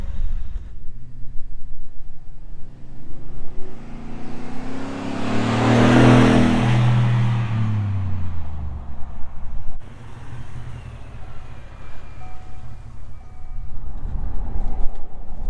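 A 2023 Ford F-150 with the 5.0 Coyote V8 and a Speedys muffler drives past, its throaty exhaust rising to a loud rumbling peak at mid-clip and then fading back into road noise.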